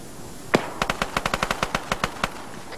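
Rapid bursts of automatic gunfire in a Vietnam-era combat video game, one sharp shot followed by a steady run of about a dozen evenly spaced rounds, loud and close with no talk over it.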